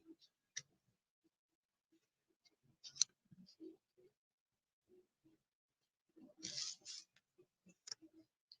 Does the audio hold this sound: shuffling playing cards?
yes